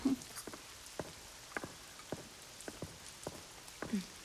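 Scattered raindrops tap on a surface one by one, quiet and irregular, spaced out over a faint background hush.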